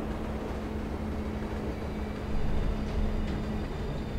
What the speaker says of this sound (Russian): Вон поезд Рорка, прямо перед нами.